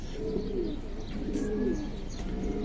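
Giribaz pigeons coo close by in two or three soft rolling phrases over a steady background hum, with a faint high chirp and no talking.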